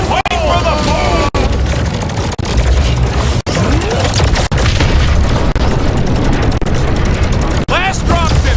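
A dropship explodes and goes down in the Guardians of the Galaxy video game, a run of heavy booms and blasts over a dense battle din, with voices talking over it.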